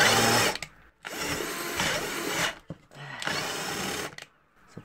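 A fake Bosch GSR 18-2-LI Plus cordless drill runs at its second speed setting while drilling, giving two long, loud whirring bursts separated by short pauses, with a brief start at the very beginning.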